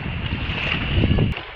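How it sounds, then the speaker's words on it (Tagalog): Strong wind buffets the microphone in a steady roar at sea off Marinduque, Philippines, with a hollow rushing of water and boat hull noise underneath, no voices. "Talakas na ang hangin."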